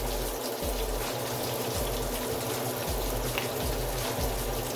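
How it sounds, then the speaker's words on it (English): Water streams steadily off cooked fish as it drains, with a constant splashing flow and soft recurring low pulses underneath. "So I'm gonna go ahead, get my fish out. I'm gonna drain it properly."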